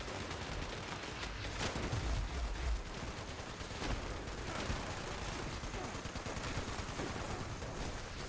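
Rapid, dense gunfire in Fallout 76 against a fog crawler, with a long, continuous stream of sharp, closely spaced shots and heavier booms mixed in, at a moderate distance and fairly quiet overall.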